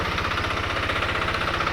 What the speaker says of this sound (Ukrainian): цим трактором їдемо збирати сіно